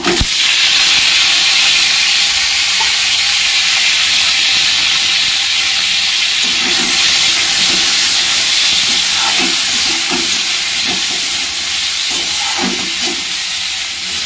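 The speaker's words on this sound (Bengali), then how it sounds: "এবার এটাকে হালকা আঁচে ভাজতে হবে, যতক্ষণ না এটা লালচে আকার ধারণ করছে" A paste of onion, garlic, tomato and ginger fries in a small amount of hot oil over low heat. It makes a loud, continuous hissing sizzle with a few soft crackles and pops, and no voices.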